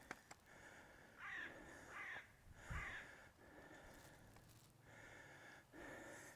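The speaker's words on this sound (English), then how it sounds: "There's the crows. You can hear them." Several harsh, rasping crow caws come in separate bursts, fairly close, with quiet pauses between them and a faint hum in the background.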